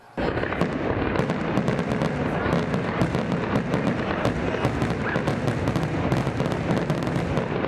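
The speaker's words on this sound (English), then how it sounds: "everyone's favorite, fireworks" Fireworks crackle and boom continuously in a dense barrage, loud and sustained, with a crowd murmuring underneath.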